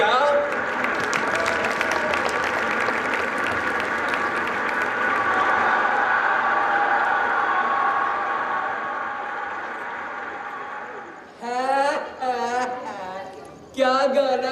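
An audience claps steadily and fairly loudly for about eleven seconds, a dense continuous ovation that then fades out as voices take over.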